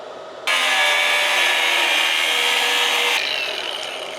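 An abrasive cutoff disc bites into steel for a vehicle bumper, giving a loud, harsh grinding screech that starts abruptly, holds steady for about three seconds, then cuts out as the disc spins down.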